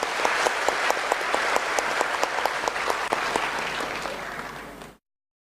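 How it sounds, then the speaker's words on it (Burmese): An indoor audience at a talk event claps together in a sustained, fairly loud round of applause with a few sharper individual claps standing out, fading slightly before cutting off abruptly. "တိုင်ညွန့်ကိုကျေးဇူးတင်တဲ့အနေနဲ့နောက်ထပ်အတူတကွလက်ခုပ်တီးပြီးအားပေးပေးပါ"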